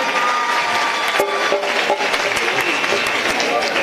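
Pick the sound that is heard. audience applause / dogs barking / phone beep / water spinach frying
audience applause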